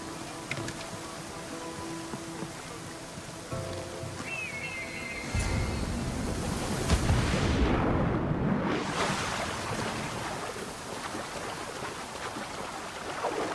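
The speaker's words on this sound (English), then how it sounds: "This is the waterfall." Waterfall rushing in the video game Assassin's Creed Odyssey, a broad steady roar that swells louder midway and holds on, with a few faint game tones early and no talking.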